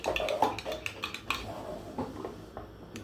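A spoon clinks and scrapes against a cup while stirring medicine, a run of light metallic taps and rattles that thins out toward the end, close and fairly quiet.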